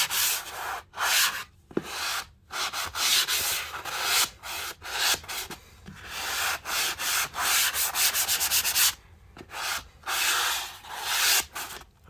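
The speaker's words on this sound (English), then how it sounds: "for my final sanding there's very little compound that needs to come off" Sandpaper sponge rasps across dried drywall compound on a repaired wall, a close, dry scratching in repeated back-and-forth strokes broken by short pauses.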